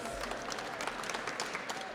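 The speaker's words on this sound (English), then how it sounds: "we give a round of applause to the young people behind us" Applause from people gathered at an education news conference, a steady dense patter of clapping filling the whole moment at moderate loudness.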